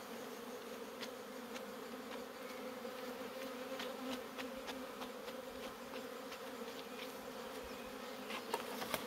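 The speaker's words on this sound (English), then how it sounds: "And then shake the bees out." A dense, continuous drone of many honeybees buzzing together during a beehive inspection, steady and moderately loud, with occasional faint clicks over the hum.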